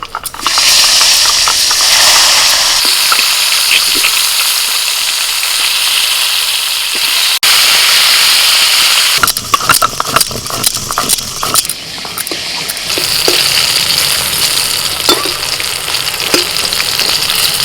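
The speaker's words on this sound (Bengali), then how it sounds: "আবারও কড়াইতে সর্ষের তেল দিয়ে দিয়েছি এবার পটলগুলো ভেজে নেব" Pointed gourd fries in hot mustard oil in a wok with a loud, dense sizzle that keeps going, broken midway by clattering, crackling bursts and spatter as the pieces are turned.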